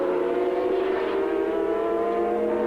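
Race car engine at Calder in a 1985 Swann Insurance International Series heat, held at high revs above 12,000 rpm, a steady loud whining tone that barely changes through the whole stretch, with no talk.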